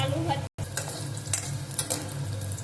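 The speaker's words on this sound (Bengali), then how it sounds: "এই তেলে এক এক করে আমি সবজিগুলো ভেজে নিচ্ছি।" Vegetables for a Bengali sukto, including potato, green banana and bitter gourd, frying one batch at a time in hot oil, giving a close, steady sizzle with scattered spatters and brief stirring scrapes, broken by one short cut to silence.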